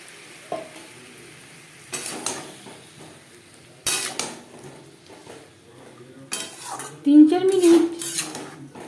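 Potatoes and tomato stirred with spices in a metal pot, a spoon clattering and scraping against the sides in irregular bursts over a low sizzle, close up, with a brief bit of voice near the end.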